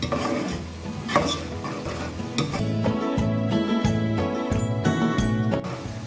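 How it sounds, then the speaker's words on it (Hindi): Onions sizzle steadily in a hot pan, frying until golden for chana dal gosht, while a spoon scrapes and clinks against the metal, stirring continuously and close up. "हम प्याज को सुनहरा होने तक पकाएंगे। जब तक ये सुनहरी हो रही है हम इसको चलाते रहेंगे।"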